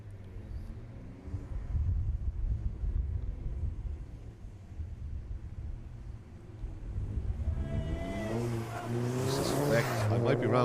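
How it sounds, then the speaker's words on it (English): Touring cars on a circuit, led by a Golf GTI, accelerate toward the listener at an ICCR race day, engine drone rising to a louder, revving pass near the end, with commentary talk running over it. "it's Owen Drought coming first out of the traps as they head down towards us in the Golf GTI"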